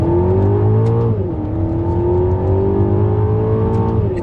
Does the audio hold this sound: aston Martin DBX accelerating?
yes